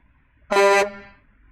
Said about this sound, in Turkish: Güzel bir kornası var. Bu zaten orijinal kornası.